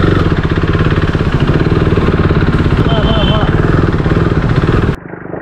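A KTM RC 390 motorcycle engine running steadily nearby with a throaty mid-pitched drone and faint rev wobble before cutting off abruptly near the end, a voice speaking over it.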